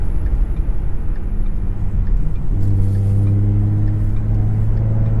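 A car accelerating during a throttle response test, a loud close engine drone and road rumble that rises into a strong steady tonal hum as it speeds up, with no talking.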